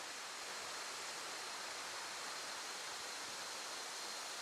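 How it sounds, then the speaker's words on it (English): Na Mueang waterfall on Koh Samui, just after rain, roars as a steady, dense broadband rush of falling water, constant and close throughout with no voices. "So that's the waterfall, Mueang Waterfall."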